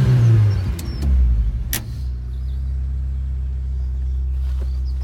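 A 1990 Lotus Elan starting up, a cranking whine that catches into a brief rising rev, then settles into a steady low, rumbling idle exhaust note, close and loud.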